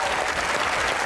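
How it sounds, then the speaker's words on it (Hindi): Talk-show studio audience applauding as the producer and cast of a stage play come on as guests, a brief burst of dense, steady clapping that fills the room. "आपकी भरपूर तालियों में सबसे पहले बुलाने जा रहा हूं the producer of this play Sumaiya"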